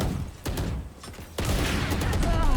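Valorant gunfire comes in loud bursts of sharp shots. Two separate volleys are followed by a longer sustained barrage close up, with no one talking.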